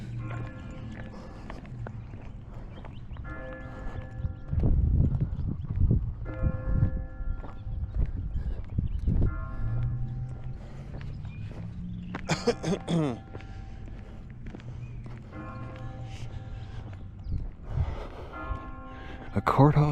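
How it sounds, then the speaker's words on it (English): A courthouse bell in a Kenedy or Karnes County courthouse belfry in Texas rings at noon, its repeated strikes ringing out over low room noise and murmuring voices, with a brief cluster of bright strokes midway. "Sounds like the bell is being rung at the courthouse."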